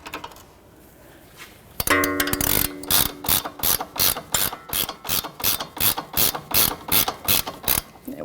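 A ratchet tightens the sway bar link nut on a Jeep Renegade with a run of sharp, evenly spaced clicks, each stroke a crisp burst, close and loud with no voices.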